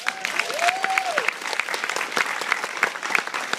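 An audience claps and cheers for Julia Louis-Dreyfus at a film Q&A, a steady, fairly loud wash of applause with a few whistles at the start.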